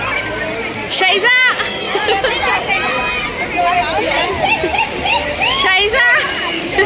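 Splashing water and shrieking crowd chatter at a water park's water games area, continuous and lively, with excited voices and squeals layered over the rushing, splattering water.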